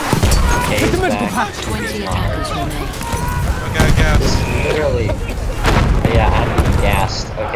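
Mortar shells explode on the Suez map during a Battlefield 1 operations match, heavy booms and gunfire churning continuously under excited voices talking over the game.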